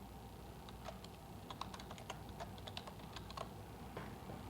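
Rapid keystrokes on a computer keyboard as a folder name is typed, a close, uneven run of light clicks with brief pauses between bursts, no talking.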